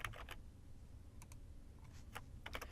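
Faint keystrokes tap on a computer keyboard in short irregular bursts, a few quick clicks at a time against quiet room tone.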